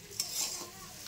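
Rice being stirred and fried in a pan makes a brief, quiet scrape followed by a soft, short sizzle close by.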